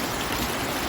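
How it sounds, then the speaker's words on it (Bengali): Rain falling steadily and heavily outdoors, a dense continuous hiss and patter at close range with no talking. "এখন বৃষ্টি পড়ছে।"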